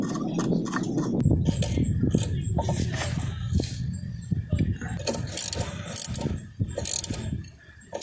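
A ratchet clicks in quick bursts as a fitting on a trail vehicle's brake line is tightened by hand near the ABS line. Metallic rattles and short pauses break up the close, fairly loud clicking.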